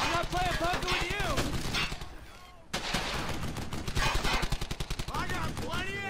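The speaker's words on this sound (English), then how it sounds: "Oh, I am shooting the grass." Rapid gunfire from the World War II shooter Brothers in Arms: Hell's Highway rattles loud and close in quick repeated bursts, with a short lull partway through before the shooting resumes, and voices are heard among the shots.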